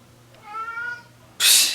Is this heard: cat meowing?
yes